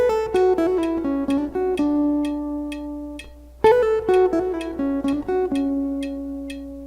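Guitar intro of a song played over a click track, a steady run of plucked notes and ringing chords with a brief pause midway before the phrase repeats, clear and close with no talking.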